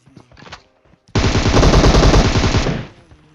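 Rapid automatic gunfire from a first-person video game shooter, one loud sustained burst of about a second and a half following softer ambient game sounds.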